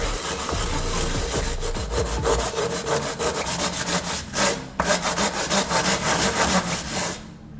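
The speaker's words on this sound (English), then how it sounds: "place the can flat on the sandpaper and move it back and forth." Metal edges of an old aluminium WD-40 can rubbed back and forth on flat sandpaper, a steady rhythmic scraping rasp with repeated strokes, close and loud, with no voices.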